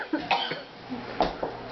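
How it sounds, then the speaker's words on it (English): A woman coughs and clears her throat in a few short, harsh bursts right after downing a shot glass of hot sauce, close and fairly loud, with brief pauses between the coughs. "Making me cough to think about it."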